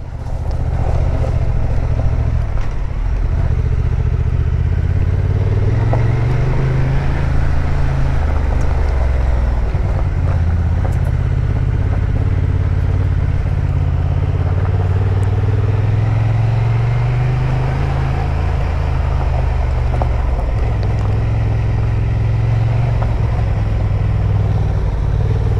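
Honda XL750 Transalp motorcycle riding on gravel after the asphalt ends, its engine a steady loud drone with shifting pitch, tire crunch and wind throughout, with no talking.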